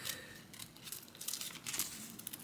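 Scissors cutting out an embroidered patch made on a single needle embroidery machine, a quiet close series of crisp snips and fabric crinkles in quick irregular rhythm, with no talking.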